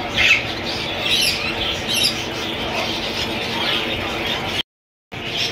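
Parakeets squawk in dense, overlapping bursts at the Sunday bird market in Bahawalpur, a continuous loud chatter of many birds close by with a brief dropout near the end.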